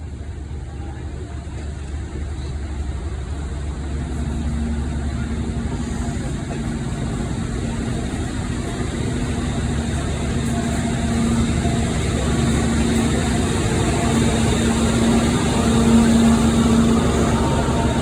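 Steady low diesel engine drone of a train at Carlisle on the West Coast Main Line, slowly building in loudness over time, continuous and close, with a faint higher tone emerging later.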